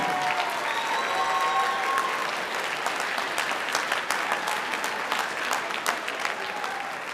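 An audience at a school fine arts week show gives sustained applause for student performers, a steady crackling clap texture with faint crowd murmur.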